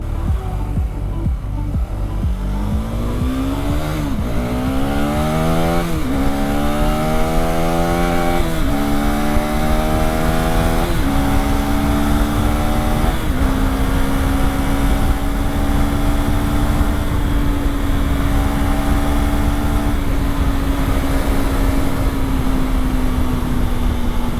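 A KTM 390 Adventure motorcycle engine revs up again and again as it climbs through the gears. Its pitch rises within each gear, drops at each shift, then settles into a steady high drone, loud and close with no talking.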